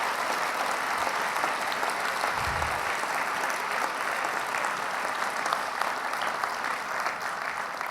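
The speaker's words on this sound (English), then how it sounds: "Let's please give a round of applause for these families representing those legacies." Steady, full applause from a large crowd at a gala dinner, continuous and even throughout with no break.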